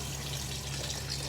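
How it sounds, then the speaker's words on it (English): Water being poured into a pan of matar paneer curry of peas and cottage cheese, making a brief, continuous gushing splash heard close and alone. "I'll add a little bit of water in there now"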